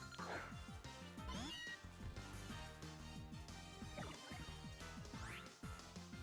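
Meowth's synthesized cat-like cry from the Pokémon Moon video game sounds several times in short bursts. Looping game background music plays throughout.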